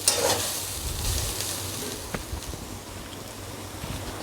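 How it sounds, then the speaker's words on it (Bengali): Bottle gourd peel and potatoes fry in a pan, a steady close sizzle with soft stirring scrapes and a few small knocks, continuous and unbroken by talk. "আমি আরেকটু ভেজে নিয়ে লাল করে তারপর বন্ধ করে দেব"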